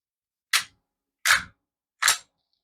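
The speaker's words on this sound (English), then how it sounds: "Safety is now off with my finger fully depressed on the trigger safety, and it fires." A pistol with a trigger safety fires three dry clicks, evenly spaced sharp snaps about three-quarters of a second apart, close and crisp against silence.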